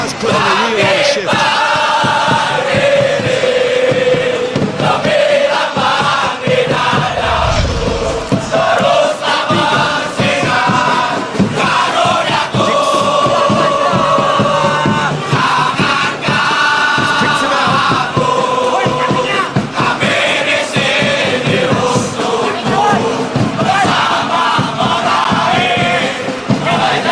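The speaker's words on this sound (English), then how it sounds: "it's good to see that the crowd appreciate his efforts because he has put in a real honest shift" A stadium crowd in an eFootball match, Uruguay against Indonesia in a 2026 World Cup group game, roars and chants steadily for the whole stretch. The loud, dense swell of voices rises and falls but never drops out.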